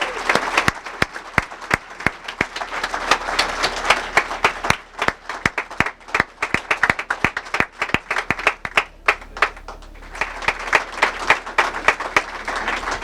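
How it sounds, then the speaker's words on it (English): An award crowd applauds Raymond Ackerman, founder of Pick n Pay, at a lifetime achiever ceremony. Sustained clapping from many hands runs the whole stretch, with sharp close claps standing out, easing briefly midway before swelling again. "give a round of applause to Mr. Raymond Ackerman"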